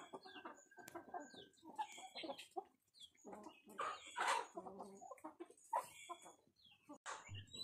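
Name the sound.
chickens clucking outdoors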